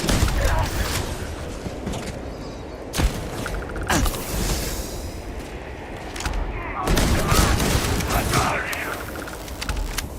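Enemy shotgun blasts in the sci-fi game Starfield, several sharp booming shots spaced a few seconds apart over a busy bed of gunfire, machinery and someone talking.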